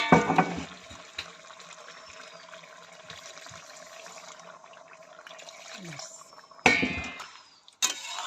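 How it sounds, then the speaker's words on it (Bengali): Water poured into a pot of country chicken kosha curry, a steady close splashing rush that runs for several seconds, broken near the end by a couple of sharp metallic clangs. "সেদ্ধ হয়ে গেলে রান্নাটা হয়ে গেছে এটাকে জল দিয়ে ঢাকা দিয়ে দেবো"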